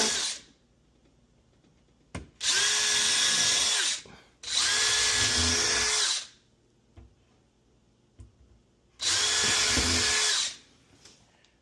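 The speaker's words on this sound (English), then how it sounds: "And then we'll put our pilot holes in." A power drill bores pilot holes for screws while fixing a tipping dishwasher, whining in three loud bursts of about two seconds each, separated by quiet pauses with small handling clicks.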